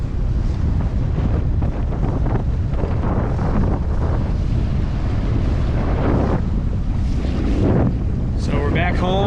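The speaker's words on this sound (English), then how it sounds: "Just as I was getting into Herring Bay, the wind picked up quite a bit." Strong wind buffeting the microphone aboard a single-handed sailboat entering a channel near Herring Bay on the Chesapeake, a loud continuous roar with water wash and faint voice-like bits mixed in.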